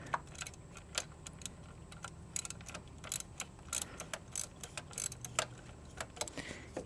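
E10 socket ratchet working bolts loose on a GM Ecotec 1.4L turbo engine, quick bursts of sharp clicking and ticking in irregular runs, close up and moderately quiet.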